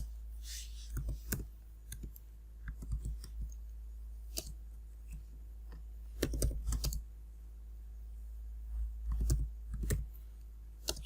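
Someone types commands on a computer keyboard to update and upgrade a server image, quiet clusters of clicky keystrokes in bursts separated by short pauses, with no speech.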